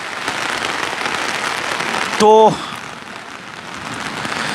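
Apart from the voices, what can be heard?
heavy rain falling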